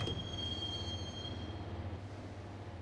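A subway train rolls along in the Max Payne video game, with a steady low rumble of wheels on rails and a thin, sustained high wheel squeal that fades out partway through.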